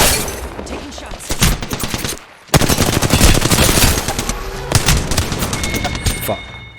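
Rapid bursts of automatic gunfire from an Apex Legends match, loud and dense with a brief gap before a renewed sustained volley, mixed with game effects.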